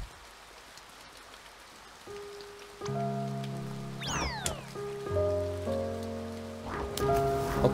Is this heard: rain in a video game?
yes